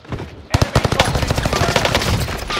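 Rapid bursts of automatic gunfire in a video game, loud and close, with sharp repeated shots running almost continuously after a short quiet start.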